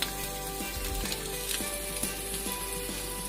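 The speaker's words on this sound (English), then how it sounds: "I got my scallops in the pan" Scallops sear in hot butter in a pan, giving a steady, close sizzle and spatter with a few soft clicks over it and no voices.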